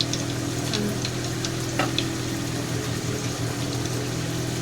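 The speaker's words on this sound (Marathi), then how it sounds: "तडका देऊन चटणीला राई टाकायची राई थोडी जास्त टाकायची चटणीमध्ये" Mustard seeds sizzle in hot oil, tempering for coconut chutney served with idli sambar, giving a steady close hiss under a low hum, with a few faint pops and crackles.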